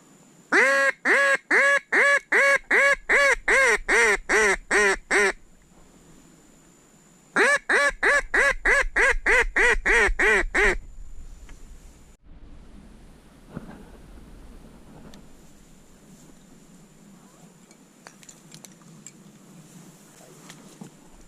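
Wild ducks quack loudly during a duck hunt, two close bursts of rapid, evenly spaced calls separated by a short pause, followed by quieter rustling and faint outdoor noise with no talk.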